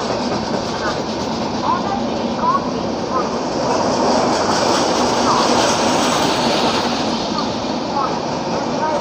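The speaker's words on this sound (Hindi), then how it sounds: "एक ये मुंबई सेंट्रल हापा दुरंतो स्किप कर रही है" A Mumbai Central–Hapa Duronto Express hauled by a WAP5 electric locomotive passes close by at speed without stopping, a steady, loud rushing rumble of wheels and coaches lasting throughout, with faint voices in the background.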